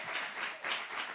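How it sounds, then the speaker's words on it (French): Audience applause for a youth choir celebrating its 50th anniversary, a steady burst of many hands clapping at moderate distance, swelling and dipping briefly with no voices over it. "Ça s'applaudit quand même."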